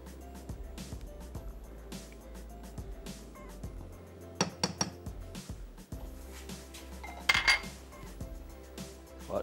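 Tomato paste being stirred in a cooking pot on a stove: a spoon scrapes and clinks against the pot in irregular bursts, moderately loud, with no talking.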